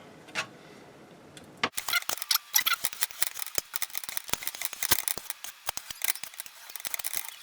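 Knife slicing a venison heart into strips on a cutting board, a run of close, quick crisp cuts and taps after a quiet start with one faint knock.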